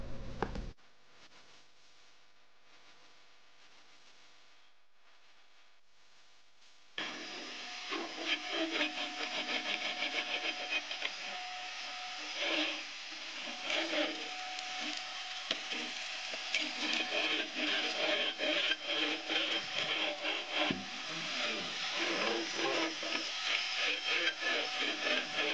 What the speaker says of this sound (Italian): prendo l'aspirapolvere, metto la punta e rimuovo il tutto